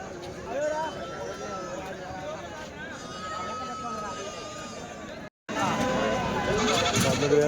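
Goats bleat now and then amid the chatter of a weekly livestock market in Kadiri, while people talk and bargain close by throughout.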